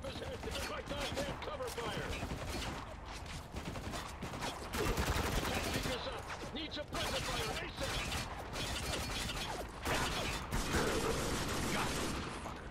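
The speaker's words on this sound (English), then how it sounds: "Taking heavy fire." Heavy gunfire in Spec Ops: The Line, a dense, near-continuous clatter of rifle bursts and mechanical rattles that keeps up for the whole stretch, with voices talking over it.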